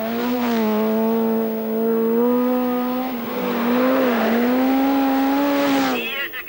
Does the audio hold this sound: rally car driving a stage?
yes